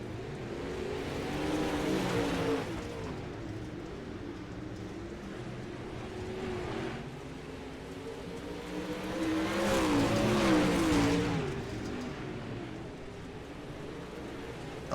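Pro late model race cars racing at Weedsport, engines roaring past in waves, swelling loud as the pack passes close then fading, with a faint distant hum between passes.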